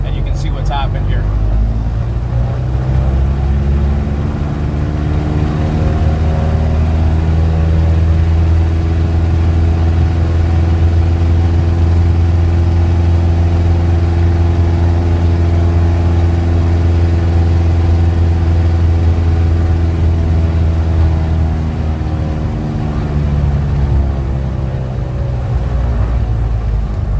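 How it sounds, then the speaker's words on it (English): Aircraft piston engine running up to 2500 RPM during propeller balancing, a loud, steady, harmonic drone that rises then holds for nearly half a minute before easing slightly, with a voice over it. "we've got the engine running again. I'll just run it up to 2500 RPM quickly"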